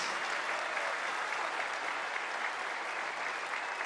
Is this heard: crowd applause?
yes